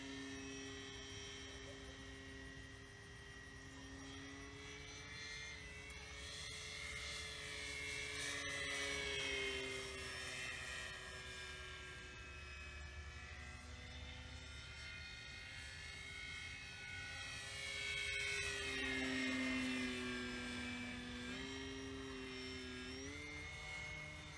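A Flex Innovations Mamba 10 RC airplane with its flight controller removed drones through the air, its electric motor whining and shifting pitch as it swoops and maneuvers, rising and falling in loudness at moderate distance.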